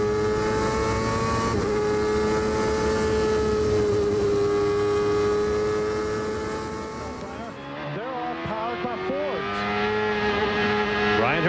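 IndyCar engine heard from onboard through the Carousel at Road America at about 150 mph, a loud steady high-pitched drone that holds throughout, then dips and rises with quick revs near the end.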